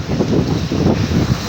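Strong wind buffets the microphone over a rough sea with big waves near a fishing mother boat, a steady low roar with gusty swells and no voices.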